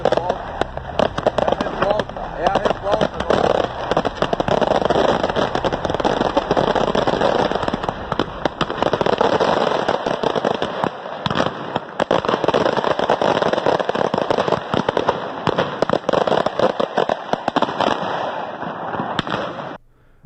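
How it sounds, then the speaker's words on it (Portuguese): Dense, continuous crackling and popping of many fireworks bursting during a political street protest, sustained at a high level for the full twenty seconds, with crowd voices mixed underneath. "Isso aqui não são fogos de comemoração."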